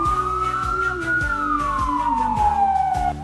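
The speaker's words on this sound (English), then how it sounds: "in the distance, she heard the sound of police sirens." A loud wailing police siren in a cartoon sweeps up and down steadily, continuous and close, with a low engine-like rumble beneath.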